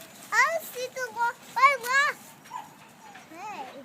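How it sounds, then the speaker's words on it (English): Young puppies whimpering and yipping outdoors near a fence, a cluster of short, high, wavering whines rising and falling over about four seconds, fairly close and moderately loud, with no talk over them. "Look at the puppies."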